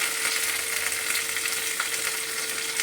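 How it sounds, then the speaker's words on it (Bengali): Soaked chickpeas frying in oil together with taro greens in a pan, a steady close crackling sizzle with faint stirring, no voices. "কচুর শাক আর ছোলাটা একসঙ্গে ভাজা হয়ে যাবে"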